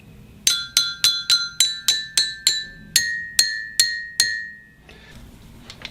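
Musical drinking glasses are struck in quick succession, ringing bright clear tones that alternate between two close, clashing pitches, about a dozen strikes at a steady then slower pace before fading out.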